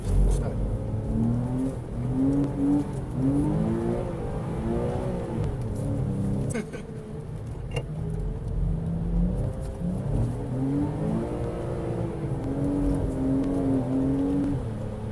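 Porsche 987.2 Cayman S being driven hard through a drift, the engine revving up and down in repeated rising and falling sweeps with a brief lift midway, loud and close, with some talking underneath.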